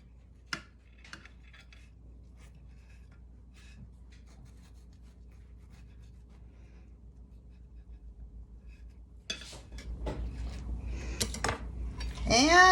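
A knife clinks and scrapes against a serving dish while buttermilk biscuits are cut in half, the clatter getting louder and busier toward the end after a long quiet stretch.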